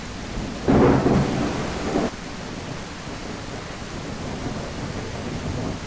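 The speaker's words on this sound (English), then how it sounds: "The sound of falling water drowns out footsteps." Heavy rain and a thunderstorm in the game The Isle, with a loud rumbling thunder burst in the first two seconds over a steady, dense wash of downpour that continues alone.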